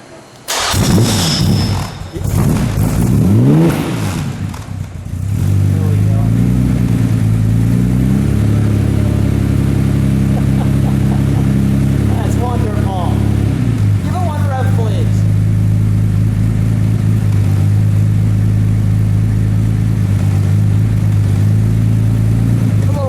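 A carbureted 1961 Aston Martin DB4 GT Continuation engine cranks and catches, then settles into a loud, steady idle with a few sharp revs swelling and falling, recorded close up, with people talking over it.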